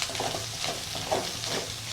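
Spices for aloo bonda filling are stirred in a hot pan with a spoon, making continuous sizzling and frying under soft rhythmic scraping strokes, close and steady throughout.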